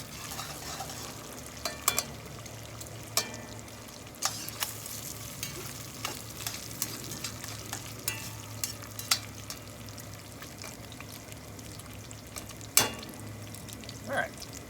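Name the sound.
stirring bacon and beef, scraping bits off pot bottom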